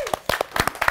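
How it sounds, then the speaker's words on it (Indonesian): Scattered clapping from a small studio audience during a talk-show interview with a film director, a handful of sharp, uneven claps in quick succession. "tepuk tangan dulu dong"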